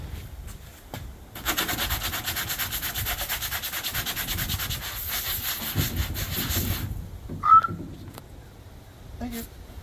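Fiberglass on a Johnson snowmobile cutter is sanded in a workshop. The sanding runs as steady, close rasping strokes for several seconds and then stops, followed by a few scattered clicks and a brief squeak.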